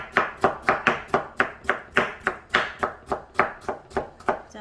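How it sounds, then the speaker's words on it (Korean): A knife chops a cucumber into thin strips on a cutting board in rapid, regular strokes, about twenty crisp close knocks at an even steady rhythm, with no talking. "그냥 이렇게 편하게 이렇게 썰어서 이렇게 해서 채 썰어서 준비하시면 되거든요"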